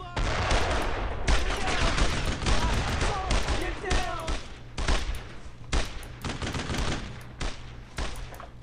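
Mortar fire and explosions in the World War II video game Brothers in Arms: Road to Hill 30, heard as dense, loud bursts of blasts and gunfire in rapid irregular succession over a rumbling battlefield.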